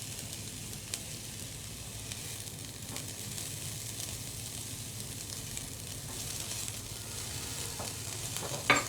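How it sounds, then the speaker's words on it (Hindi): Chopped capsicum and spring onion fry in hot oil in a pan, a steady, moderately quiet sizzle with soft stirring scrapes and a small clatter near the end; no one speaks. "अब इसके अंदर मैं कटी हुई शिमला मिर्च जो है वो मैं डाल दूँगी और इसको फ्राई करूँगी"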